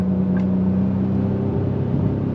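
A 2025 Ford Explorer Active cruising down the highway, with a steady low engine and road hum and a smooth, even drone throughout, no talking.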